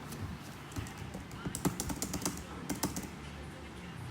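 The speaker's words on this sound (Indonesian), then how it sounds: "Setelah itu saya akan membuka Command Prompt di Windows dan kita akan mengetik" Rapid tapping of computer keys typing commands into Windows Command Prompt, bursts of keystrokes with short pauses, close by, over a faint steady background hum.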